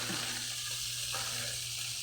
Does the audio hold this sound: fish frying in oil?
yes